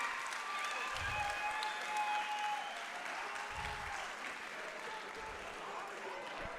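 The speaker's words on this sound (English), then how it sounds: "How about a round of applause?" Audience at an MMA event applauds after a fight, a steady wash of clapping from a mid-sized crowd heard at a distance, with an announcer's voice carrying over it.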